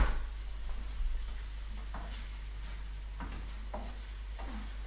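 Food sizzles in a frying pan set slightly off centre on a stovetop burner, a soft steady crackle with occasional stirring scrapes, fairly faint and without talk.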